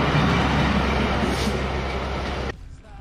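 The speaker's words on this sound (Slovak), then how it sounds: "Rýchlo ide vlak." A train rushes past close by during a cycling trip from Sereď, Slovakia, a loud, dense rumble of wheels and cars that cuts off abruptly near the end, leaving quieter surroundings.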